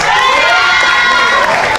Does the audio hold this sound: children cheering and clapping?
yes